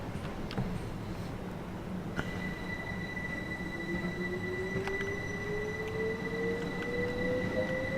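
A train arriving on the East Coastway route in the Train Sim World game: a steady, fairly loud rumble with a slowly rising whine building over several seconds, with no talking.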